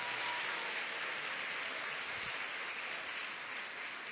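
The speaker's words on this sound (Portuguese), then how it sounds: "Eu acho que você deveria aplaudir essas mulheres." A conference audience applauds the mothers with a steady, even wash of clapping, distant and fairly quiet, sustained throughout without talk.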